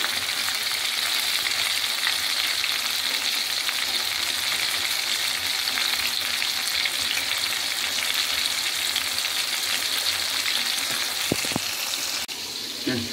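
Tomatoes fry in shrimp oil in a pan, a loud continuous hiss and sizzle held close and steady throughout, with a few brief clinks near the end.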